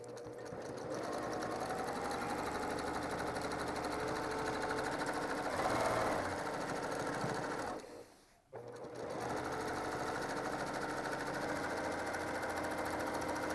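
A sewing machine stitching free-motion quilting figure eights runs steadily and close, a continuous rapid whirring hum that briefly stops and then resumes, with no talk over it.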